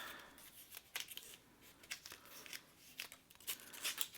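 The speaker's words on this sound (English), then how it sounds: "Let's unwrap this." A wrapped book package being unwrapped: quiet, close crinkling and tearing of paper in short irregular bursts, with the sharpest rustles toward the end.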